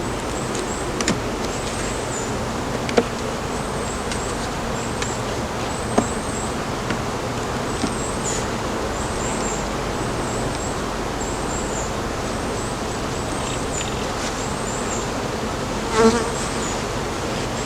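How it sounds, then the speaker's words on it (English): Honey bees buzz steadily around an opened beehive during a spring split, a dense, continuous drone with individual insects whining past close by and occasional soft clicks of hive handling. "Too many bees up there."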